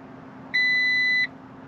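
A single steady electronic beep, high-pitched and clean, lasting under a second over a quiet background hum, from a diesel engine tuning device starting up.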